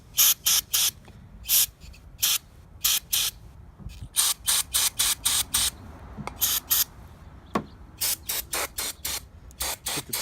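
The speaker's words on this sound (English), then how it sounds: "you just take it and you just spray through all of them" Repeated short hissing bursts of aerosol cleaner sprayed through the passages of a two-stroke dirt bike carburetor, fired in quick irregular pulses with brief pauses, close and loud, alongside faint mechanical clicks.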